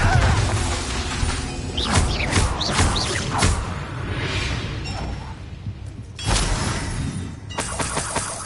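Bombarda blasting spells cast in the Hogwarts Legacy video game, a run of loud crashing impacts and whooshing bursts over a dense battle din, with a heavy blast near the middle and another strong hit toward the end.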